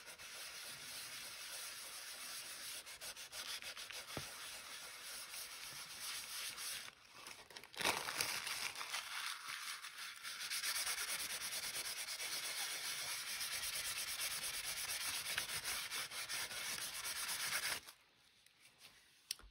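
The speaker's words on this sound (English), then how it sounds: "we're going to gently rub this. It must be absolutely dry." Dry embossed card paper is rubbed gently by hand, producing a soft, continuous papery scuffing and hissing close by that shifts in texture, pauses briefly midway and stops near the end.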